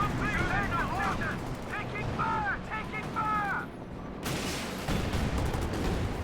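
Tank gun shells firing in the real-time strategy game Company of Heroes 2, booming blasts and battle noise mixed under a commentator talking throughout, with a sharp explosive burst near the end.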